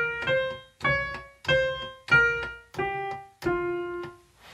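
Melody played on offbeats, six sustained pitched notes entering in a steady rhythm displaced behind the beat, each swelling and decaying, the last held longer; played alone with no talking.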